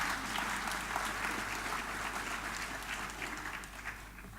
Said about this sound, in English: It's nice to get an applause for that